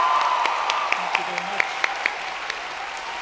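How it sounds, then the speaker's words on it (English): Audience applause for the National Symphony Orchestra Ireland, a steady wash of clapping with a few sharper claps standing out, while a person speaks briefly over it. "give a massive national round of applause to the National Symphony Orchestra Ireland"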